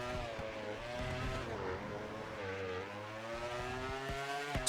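Racing motorbike engine in the MotoGP 25 video game, a high harmonic whine that rises and falls through gear changes and engine braking, close and continuous, with no speech.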